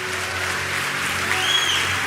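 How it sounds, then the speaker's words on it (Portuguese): Church congregation applauding during a Brazilian evangelical service, a dense, steady wash of clapping from many hands that swells slightly toward the end, with a faint high tone sliding through briefly. "Agora dá uma salva de palmas mais alto, bem mais alto"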